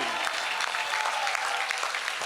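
A crowd claps steadily and continuously at the Ganga Aarti ceremony in Rishikesh, a dense wash of many hands with no pauses, fairly loud and close.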